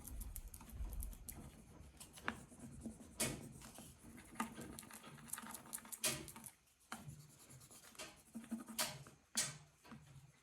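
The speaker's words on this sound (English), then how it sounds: "we're just going to use our stick and burnish the adhesive on there" A stick rubs firmly across an adhesive transfer sheet on a surface, producing close, irregular scratchy strokes and soft taps in uneven bursts, quiet and unaccompanied by talk.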